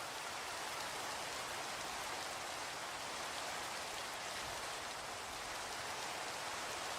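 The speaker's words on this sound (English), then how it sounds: "it's making the rain sound because I'm right on the edge of the ice, but it's obviously snowing" Constant rain hiss from a blocky sandbox video game, heard at the edge of a frozen icy area in snowy weather, a dense, loud, unbroken wash of falling drops with no voices.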